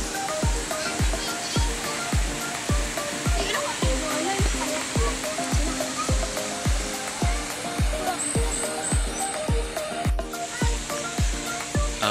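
Steady broadband rush of water at a river swimming spot with cottages in Cansiboy, Burauen, Leyte, fairly loud and continuous, overlaid by a regular thumping beat throughout.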